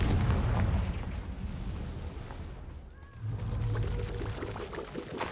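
A Confringo fire spell in Hogwarts Legacy bursts into a rumbling explosion, a dense crackling roar that dips briefly and swells again, loud and close with no speech.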